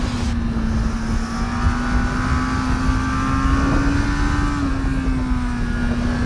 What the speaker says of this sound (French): Là, on est quand même sur un 4 cylindres de Fireblade.